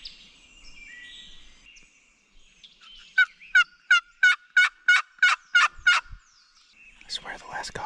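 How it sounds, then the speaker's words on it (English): Wild turkey gobbler sounding off in spring woods, a distant run of about eight rapid rhythmic gobble notes, clear and alone over quiet background. "I just heard gobble again."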